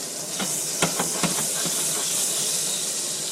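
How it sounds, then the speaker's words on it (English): Butter sizzles and hisses steadily in a hot pan on a home kitchen stove, a constant bright crackling bed with a few sharper pops early on, close and fairly loud, with no talking. "We got the butter going."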